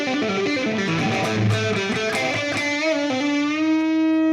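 Overdriven electric guitar notes and chords ring out through a heavy reverb like that on a rock band's first album, smearing each note into a lingering wash, ending on a sustained tone.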